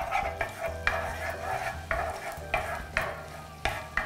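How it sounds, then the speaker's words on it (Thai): Chili paste oil and chicken dipping sauce are stirred in a pan, with a soft continuous sizzle broken by regular scraping strokes of the spoon about every half second, close and fairly quiet. "นี้จะเป็นน้ำมันจากน้ำพริกเผานะคะใส่ลงเลย ตามด้วยน้ำจิ้มไก ่เราจะคนมันก่อน"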